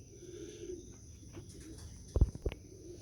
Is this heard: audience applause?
no